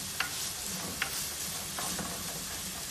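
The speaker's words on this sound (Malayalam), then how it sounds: "ഇനി നമുക്കിതൊന്ന് ഇളക്കി നല്ലോണം വഴറ്റിയെടുക്കാം" Fish curry ingredients, including small shallots, sautéed over a high gas flame with a soft continuous sizzle, broken by a few sharp clicks of a spoon against the pan.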